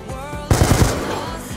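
Call of Duty: Black Ops 2 gunfire: a loud, close burst of rapid automatic shots, about four quick cracks, then a fading echo with no voices.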